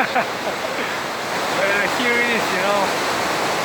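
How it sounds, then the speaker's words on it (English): A river in Bulgaria running full after rains roars with a loud, steady rush of water close by, while someone talks over it. "the river is very full of water right now. So it's soaring and roaring"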